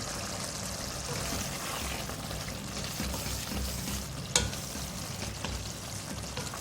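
Minced mutton fries with mashed tomatoes and chopped green chillies in a karahi, giving a steady, even sizzle up close, broken once by a brief sharp knock, no talking.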